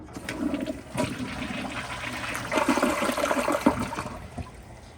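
A Glacier Bay elongated dual-flush toilet on full flush, a steady rushing and gurgling of water through the bowl that swells midway and drains off with trickles near the end, close and loud, with no talk.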